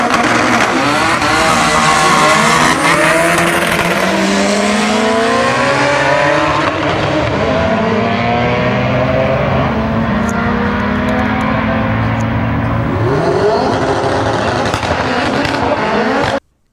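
Turbocharged Honda drag cars at a import drag race, a 1994 Integra and a 1995 Civic both with turbo B18C1 engines, screaming loudly with rising and falling revs through gear changes and sharp pops, close and continuous.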